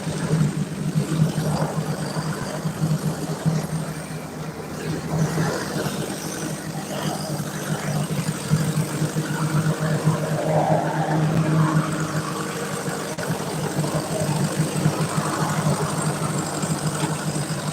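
Engine of farm machinery used for raking and baling hay, running steadily under throttle with a continuous close, even hum and no voices over it.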